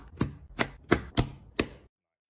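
Five crisp clicks of LEGO Ninjago plastic bricks snapping together in a steady, evenly spaced rhythm, close and fairly loud, with nothing else around them.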